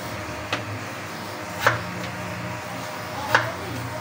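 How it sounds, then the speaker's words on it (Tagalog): A knife chops vegetables into quarters on a cutting board, giving three distinct, fairly close chops spaced about a second apart over quiet background noise. "pag-aapatin lang po natin"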